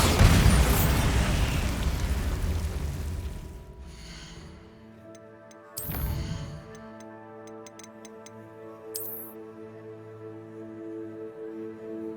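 A Bombarda spell blast in Hogwarts Legacy opens with a loud, rumbling explosion that slowly fades over several seconds. Quieter ticking, chime-like game sounds and a couple of soft whooshes follow.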